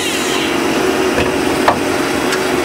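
Star SA16R CNC Swiss-type lathe running a machining cycle: a steady whirring drone with a constant tonal band, broken by a few sharp tool clicks and knocks, close and fairly loud, with no talking.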